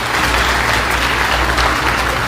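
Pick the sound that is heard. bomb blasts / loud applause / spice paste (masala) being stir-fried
loud applause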